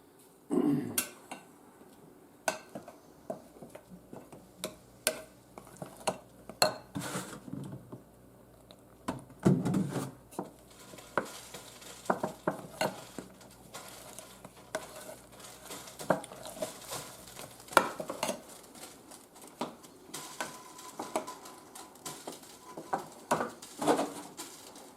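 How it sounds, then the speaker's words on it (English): Milk being stirred into a thick biscuit dough for maple dumplings, close irregular spoon clicks and bowl knocks with soft mushy stirring over about twenty-five seconds, a faint bird cooing in the background, no talk. "So I'll add milk to it and stir it in till I get a pretty thick consistency"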